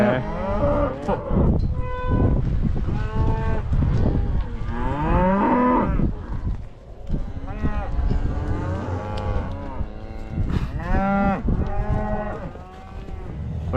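A herd of cattle, cows, heifers and steer calves separated by a gate during weaning, moos and bawls continuously and loudly, many overlapping calls near and far with no pause.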